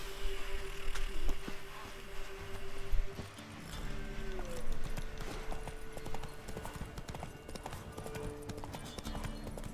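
Hoofbeats of Roach, Geralt's horse in The Witcher 3, clip-clop in a steady trotting rhythm under game music and ambience, close and fairly loud throughout.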